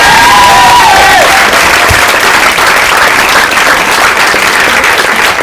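An audience in a comedy club breaks into loud, sustained applause and some cheering to welcome a comedian, a dense, close wall of clapping that holds steady throughout, with a brief voice audible at the start.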